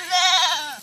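A pregnant goat gives a single short, wavering bleat, loud and close, with no talking.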